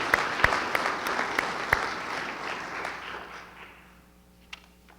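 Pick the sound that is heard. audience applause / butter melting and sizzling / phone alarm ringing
audience applause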